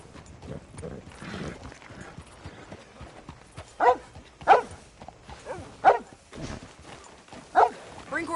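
Horse hooves clopping in Red Dead Redemption 2, a few distinct hoof strikes spaced irregularly amid quieter movement sounds, fairly close, with a dog barking and voices.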